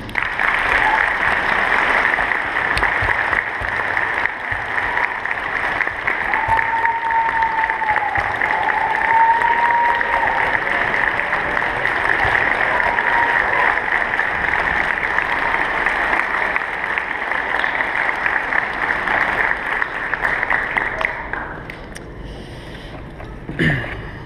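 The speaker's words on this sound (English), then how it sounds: "We want to give you a round of applause tonight." Sustained applause from a crowd fills the whole stretch, steady and loud, fading out near the end.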